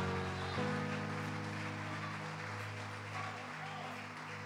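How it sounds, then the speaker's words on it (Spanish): A church congregation applauds during a Spanish-language sermon, a steady wash of clapping with sustained music chords underneath from the first second onward. "Aplaude ahora."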